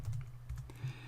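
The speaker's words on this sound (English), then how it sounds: "If I type cf stacks," Quick, close keystrokes on a computer keyboard as a short command is typed, a brisk run of light clicks with no talking.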